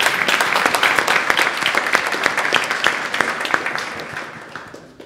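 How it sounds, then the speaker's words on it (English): An audience at a programming conference applauds after a talk on reinforcement learning, with sharp individual claps standing out in a lively burst that gradually fades away. "Please give another round of applause for Robert and his great talk."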